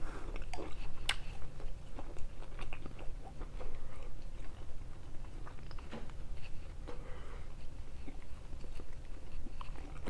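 Someone chewing leftover Latin American–style steak from the night before, with soft, close, irregular wet chewing and small bites repeating steadily for several seconds, no talking.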